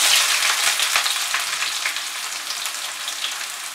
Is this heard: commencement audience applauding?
no